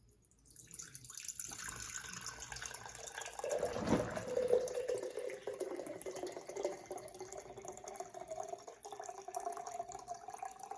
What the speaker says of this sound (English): So I'm gonna do this to hold back the ice and pour that in.